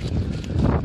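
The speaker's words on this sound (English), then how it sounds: "it's a bit windy here" Steady wind buffets the microphone outdoors at the 2023 British Motor Show at Farnborough, a constant low roar with gusty swells and no talk.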